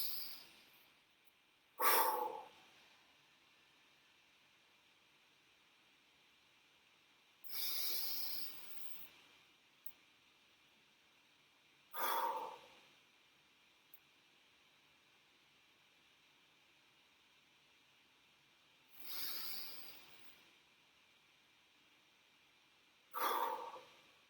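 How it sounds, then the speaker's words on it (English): A group taking slow, deep breaths together, five long airy inhales and exhales spaced evenly several seconds apart, soft and close, with near silence between them. "Deep breath in."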